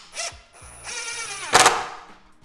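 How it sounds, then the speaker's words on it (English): Power drill driving a screw into gate hardware, short bursts of motor whine rising and stopping, with a sharp clack near the end, close and loud. "So now your screw is going to go in exactly where you want it to go."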